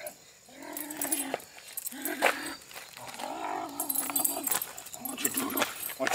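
A German Shorthaired Pointer puppy whimpers and whines in repeated high, wavering cries, close by and fairly loud, interrupted by a few sharper yelps.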